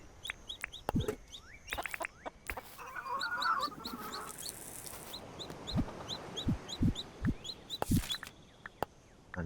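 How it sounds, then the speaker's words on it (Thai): Chickens in the Dinkum video game cluck repeatedly while being fed, with short rhythmic clucks and rising calls in a quick series, along with a few dull thumps and a brief clatter, all near and clear without speech. "แล้วก็ให้อาหารให้อาหารไก่"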